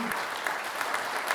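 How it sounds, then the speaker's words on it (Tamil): An audience at a Tamil New Year special talk greets a speaker with a warm burst of applause, a dense steady clatter of many hands clapping in a hall, heard on its own. "ஒரு உற்சாகமான கைத்தட்டலோடு அவர்களை வரவேற்று"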